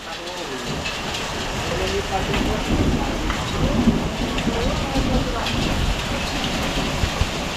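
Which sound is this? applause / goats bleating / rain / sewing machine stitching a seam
rain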